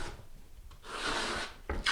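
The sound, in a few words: skimming floor patch with a trowel, rubbing it in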